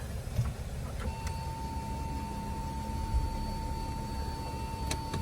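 A nearby Audi Q7 TDI diesel engine runs with a low, steady rumble and a faint constant whine, without talking.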